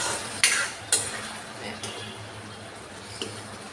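Hog plum and potatoes are fried in a pan, with a few sharp clinks of a spatula against the metal over a soft, low sizzle and faint stirring.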